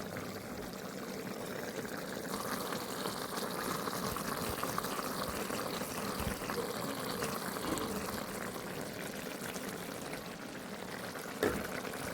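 A continuous bubbling, simmering sound of Kerala theeyal curry with ground paste, fenugreek powder and salt boiling in a pot, steady throughout with a small clink near the end.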